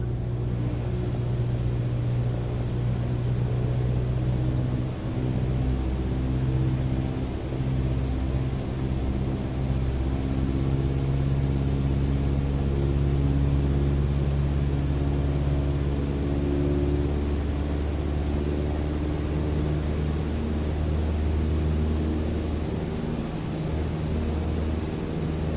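Simulated light aircraft engine in Microsoft Flight Simulator throttling up to 2400 RPM, a continuous droning hum with tonal layers that shift and rise gradually over the stretch, steady and alone without speech.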